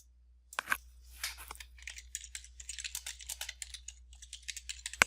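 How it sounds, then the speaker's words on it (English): An axis title for an Excel chart is typed on a computer keyboard, producing soft, rapid, irregular clicks near the microphone, with a sharper tap at the end and a low steady hum beneath. "here, we're going to type our axis title"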